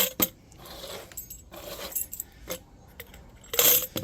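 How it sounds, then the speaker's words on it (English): Brass keys are tossed into a container, clattering and jingling in a few quick bursts, the loudest near the end, with quiet pauses between them. "simply throw your keys in there, which I'll try to do quite quickly here"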